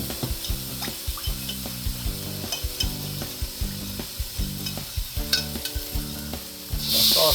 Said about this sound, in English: we're going to just mix this up until it starts thickening up